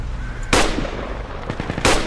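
Two short bursts of automatic gunfire in the video game Project Reality, a loud close rattle at the start and another at the end, with scattered quieter shots between.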